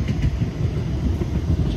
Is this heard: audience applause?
no